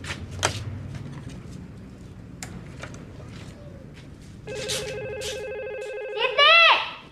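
A telephone in a family home rings with a steady repeating electronic tone that starts midway and grows louder, under a voice and household noise, ending in a sharp burst.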